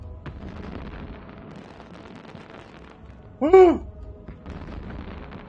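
Fireworks from another player burst in a space video game: a single loud crackling blast near the middle, heard over steady game ambience, with a brief excited shout beforehand.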